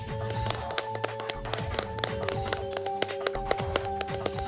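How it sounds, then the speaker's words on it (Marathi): Several people clap their hands in an office gathering, a quick, uneven patter of sharp claps that continues steadily and close by for a few seconds. "अरे वाजवा टाळ्या."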